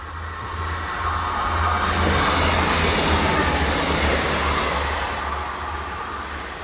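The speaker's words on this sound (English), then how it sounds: "just coming through on platform 1 is a lovely Great Western Railway train going wherever it's going" A Great Western Railway passenger train rumbles steadily through platform 1 at Avoncliff station, UK, with a broad roaring wash and low engine hum, swelling in the middle and easing off toward the end, with no voices.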